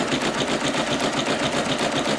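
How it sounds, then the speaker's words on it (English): A Singer Legacy SE-300 embroidery machine stitches an in-the-hoop design, its needle hammering in a fast, even mechanical rhythm, loud and close with no voices. "It did stitch, it just didn't stitch the way it's stitching here."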